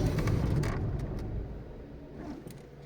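A VW Polo engine idling with its EGR valve disconnected, a steady low rumble close by that slowly quietens over a few seconds, with no talking.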